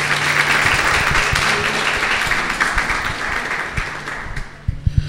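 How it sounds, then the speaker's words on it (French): An audience at a French-language talk applauds in a dense, steady round of clapping that fades toward the end, ending with a few sharp, louder claps close by. "Est-ce que nous sommes capables d'applaudir?"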